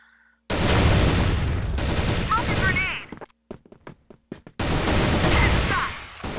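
Bursts of gunfire in the Crossfire shooter game during an esports match, loud clustered shots broken by a stretch of sharp separate cracks, with a commentator's voice running over parts of it.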